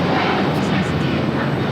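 A China Eastern Airlines Boeing 777-300ER jet roars steadily and loudly as it takes off at LAX, with a voice faintly under the engine noise.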